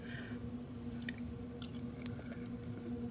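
Someone chews a bite of crispy scalloped sweet potatoes, with soft, faint, wet crunches and squishes close to the microphone over a steady low background hum.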